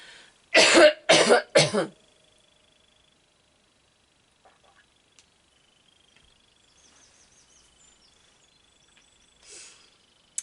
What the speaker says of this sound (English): had the cough, just a sec.